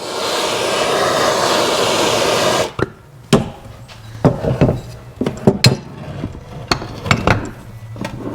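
A torch roars steadily for a few seconds as it heats a rusted-solid part on a flood-damaged Corvair engine, then cuts off, leaving scattered metallic knocks and clanks.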